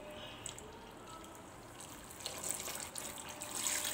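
Water poured into a cooking pot of sugar and other ingredients in a Moroccan kitchen, a soft steady splashing stream that grows slightly louder toward the end, heard alone.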